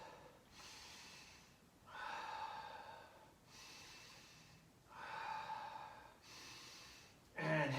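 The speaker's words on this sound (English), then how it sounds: "Few deep breaths." Slow, deep breaths during a breath work and stretching session: four or five long, audible inhales and exhales in an even rhythm, close and fairly faint, with no talk.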